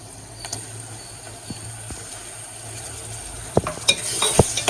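Cleaned prawns frying with browned onions in a pan give a soft, steady sizzle, with a few sharp utensil scrapes and clinks against the pan growing louder toward the end.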